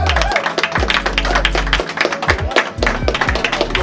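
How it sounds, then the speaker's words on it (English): A round of applause from a small street crowd in Trenchtown, sharp close claps and taps in an uneven burst, loud and near with some voices mixed in. "we could give Scally a round of applause, man"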